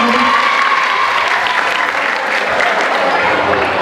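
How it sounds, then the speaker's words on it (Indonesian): A crowd at an Isra and Miraj gathering claps loudly in continuous applause for several seconds, dense and sustained, with faint voices mixed in. "Boleh tepuk tangannya dong"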